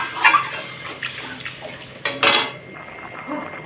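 Water goes into a pan of chhena curry, a short splashy pour with close clattering of the pan and utensil, loudest near the start and again midway, then settling.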